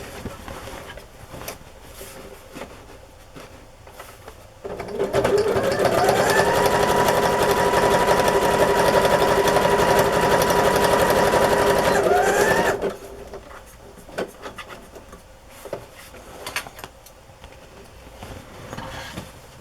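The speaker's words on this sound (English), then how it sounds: "Now I'm going to sew the calendar piece on." Sewing machine stitching a fabric journal cover, running steadily for about eight seconds in a loud, even whir with rising and falling pitch, framed by quieter handling noises before and after.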